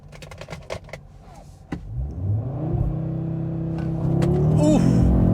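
A 2025 Audi RS3 sedan with a turbocharged five-cylinder engine launches hard, its exhaust note rising into a loud, sustained rasping roar after a few sharp clicks and thumps, heard close from inside the car.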